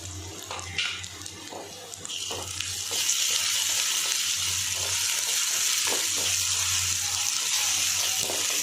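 Curry leaves dropped into hot sesame oil for a dried-fish thokku, a loud hissing sizzle that rises abruptly and holds steady, with light clatter of utensils beneath.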